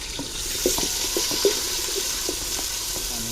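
Four medium onions go into hot oil with fennel seeds for chicken polao in a village kitchen, giving a continuous close hiss and sizzle with scattered small crackles and taps.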